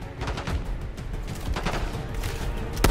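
Rapid gunfire in Call of Duty: Black Ops 6 crackles in dense bursts, near and loud, with a sharper shot near the end.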